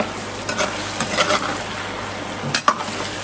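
Garlic ginger paste and crushed brown onions fry in a pan with a steady close sizzle, while a spoon scrapes and clinks through the mixture in short bursts.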